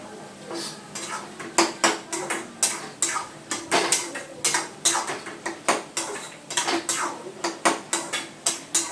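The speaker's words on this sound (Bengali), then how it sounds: "এবার ঢেকে দিলাম তরকারিটা" A metal lid goes onto a pot of curry on the stove with a series of sharp clanks and clatters of cookware, irregular and close, under a light sizzle of frying.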